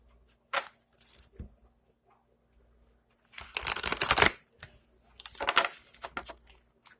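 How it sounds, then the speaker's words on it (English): Tarot cards are shuffled by hand in two or three short riffling bursts separated by quiet pauses, close and fairly soft, with light taps between them and no talk. "I'm going to shuffle one more time."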